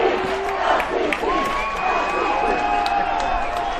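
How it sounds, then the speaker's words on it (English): High school lacrosse championship crowd at La Costa Canyon versus Coronado, a loud mass of voices and cheers with chant-like shouting and whoops, continuous through the clip. "The chants of LCC fill the crowd."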